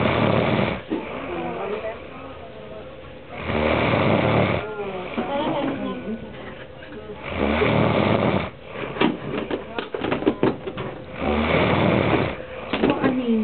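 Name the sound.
loud snoring of a sleeping person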